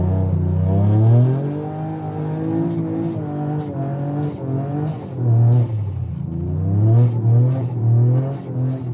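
Toyota GR Yaris engine revving and surging while drifting on a narrow snowy road, a steady loud engine note that rises and falls in pitch with throttle throughout.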